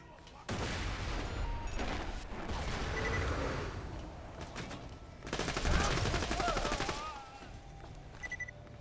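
Sustained rapid gunfire and explosive bursts from the Borderlands shooter, a Kerblaster rifle blazing through a boss fight against the Badassasaurus, loud and dense with a sharper volley near the end and a voice talking over it.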